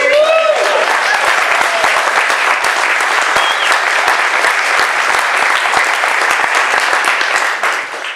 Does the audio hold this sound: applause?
yes